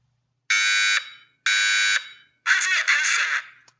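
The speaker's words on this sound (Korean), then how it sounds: "이렇게 화재가 발생했다고 쩌렁쩌렁하게 알려줍니다" A Zinix photoelectric fire alarm sounding loudly up close: two shrill half-second electronic tones separated by short gaps, then a longer warbling, wavering alarm burst before it stops.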